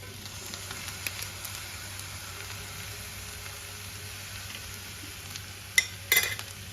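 Spiced potato filling for batata vada is stirred in a pan over a low, steady sizzle, with a few spoon scrapes and clinks near the end.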